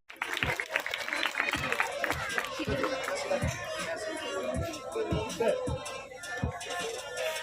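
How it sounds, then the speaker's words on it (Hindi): Applause for a student called to the stage at a school prize distribution, a sustained wash of clapping from a seated crowd with an announcer talking over it. "जोरदार तालियां दी मोमना के लिए"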